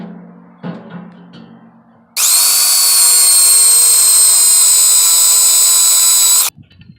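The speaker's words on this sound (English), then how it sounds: "after I drill the holes and attach these bottom brackets" Power drill boring holes for bottom brackets on a muller build, a loud steady high-pitched whine running several seconds alone, preceded by a few brief knocks and handling sounds.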